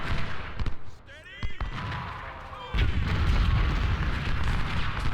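Musket volleys crackle and boom in Ultimate General: Civil War during the Gaines' Mill battle, rolling gunfire bursts with a dense, heavy rumble of massed fire building in the second half, with a faint voice briefly heard underneath.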